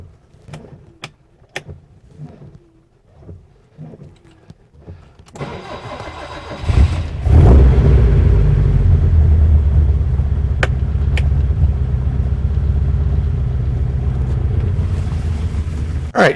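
A 1972 BMW 2002 with a start-and-run fault: a few faint clicks and cranking attempts, then the engine catches with a loud roar and settles into a steady, rough idle that runs on close to the microphone.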